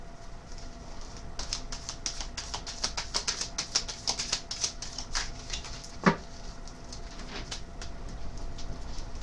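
Tarot deck being shuffled, a run of quick crisp flicks and riffles with one sharper snap partway through, close but quiet, with no talking.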